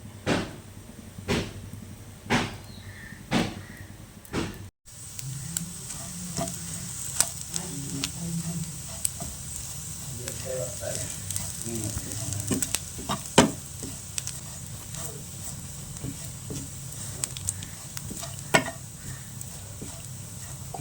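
Steady sizzle of grated coconut and spices dry-roasting in a pan until brown, with a scraping stir, plus a few sharp taps early on, close and moderately loud with no voices.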